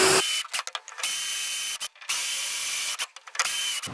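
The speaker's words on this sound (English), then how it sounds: "just drilling the center of the rivet hole right here. Just drill, the rivet pops off" A power drill whines loudly in several bursts, drilling out rivets on an Airstream trailer's piano hinge, starting and stopping repeatedly with short pauses between runs.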